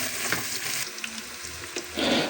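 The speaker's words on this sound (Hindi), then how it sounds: "प्याज हमारे भुनने जा रहे हैं जी। उसमें डालेंगे गरम मसाला, साबुत गरम मसाला थोड़ा सा, अदरक लहसुन का पेस्ट है जी" Onions frying in a pot with whole garam masala and ginger-garlic paste, a steady close sizzle that runs the whole time and swells louder near the end, with no talking.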